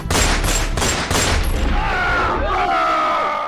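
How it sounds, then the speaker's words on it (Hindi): Several gunshots crack out one after another in quick succession, loud and close, followed by a fading echo and a high tonal whine. "दाग दी एक के बाद एक कई गोलियां"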